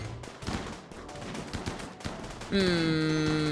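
Gunfire erupts in a Rimworld battle: dense, rapid volleys of shots crackle steadily for a couple of seconds, then give way to sustained tonal game music, with no voices.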